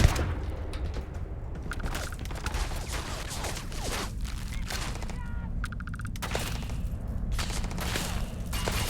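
Rapid gunfire crackles through a Starfield firefight, a dense and loud run of overlapping shots with sharp cracks and a few heavier thuds that carries on for nine seconds.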